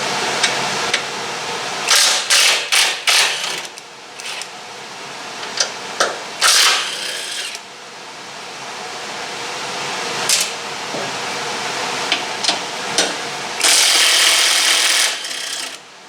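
A power tool fastening the top strut bolts on a 2013 Mustang GT gives repeated short bursts of whirring and rattling, interspersed with metallic clicks and handling noises, loud and close.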